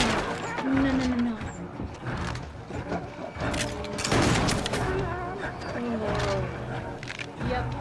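Gunfire from a shotgun-wielding enemy in the video game Little Nightmares 2, several loud blasts and booms in quick succession over a dense, noisy game soundscape while a person talks throughout.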